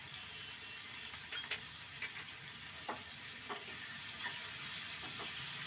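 Food fries quietly in a pan with a soft, continuous sizzle, broken by a few light scrapes of stirring, with no talk.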